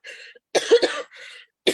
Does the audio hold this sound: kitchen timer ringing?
no